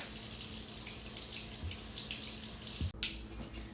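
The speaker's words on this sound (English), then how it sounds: "I'm going to pull some of these out and defrost them with some hot water" A kitchen tap runs hot water over cooked frozen shrimp to thaw them, a steady close rush of water into a sink, briefly interrupted by a clunk and a shift in the stream near the end.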